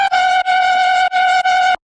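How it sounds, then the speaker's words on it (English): A sustained synth lead lifted from an original song, playing a steady held tone with rich harmonics in four phrases separated by brief dips, loud and dry, then cutting off abruptly into silence. "It's actually just a lead from the original that I exported out"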